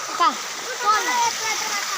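Water splashes and rushes steadily throughout, with a nearby voice talking over the running flow.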